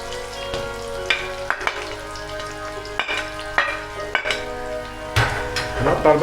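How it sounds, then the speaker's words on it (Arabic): Onions sizzle steadily in hot oil, crackling close by, with occasional sharp clinks and scrapes of a utensil stirring the pan. "أول ما يسخن الزيت هنزل ببصل كتير"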